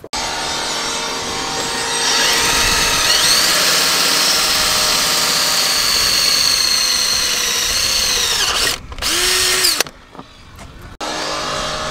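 A loud power drill whines steadily for several seconds drilling a hole in metal, then cuts out, followed by a brief final burst and a return of the motor's hum.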